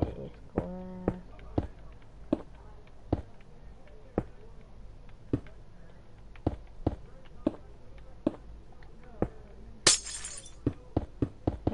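Glass blocks breaking in Minecraft, a long run of short sharp shattering clicks at a steady pace, with one brighter louder break near the end.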